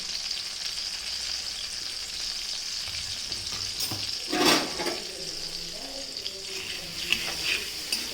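Green chilies fry in butter and oil with fox nuts (makhana) and black salt in a pan, a steady close sizzle with a brief louder burst of stirring midway and no talk.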